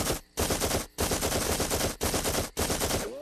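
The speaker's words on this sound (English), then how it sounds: "fire off a few rounds just for kicks" Rapid automatic gunfire, rounds fired in long continuous bursts broken by a few brief pauses, loud and dense throughout with no voices.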